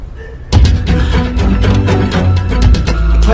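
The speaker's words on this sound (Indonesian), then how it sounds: "ia bentur-benturkan dengan nampan besi di tangannya" A metal tray is banged repeatedly against an iron pipe duct, giving loud, sharp, irregular metallic clanks after a brief quiet start.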